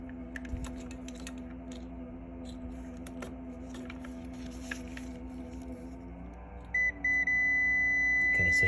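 A multimeter continuity beep sounds while testing the start relay of a mini fridge, a steady electronic tone arriving near the end over a constant hum and faint clicks of the probes.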